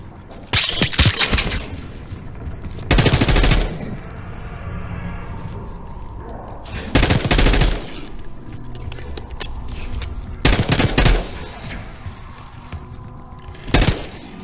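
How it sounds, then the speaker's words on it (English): Several short, loud bursts of gunfire in the video game Call of Duty: Black Ops 6, coming from a lower floor, crack out at intervals, separated by quieter stretches of low rumbling background. "You hearing gunfire? Yeah. Sounds like it's coming from one of the lower floors."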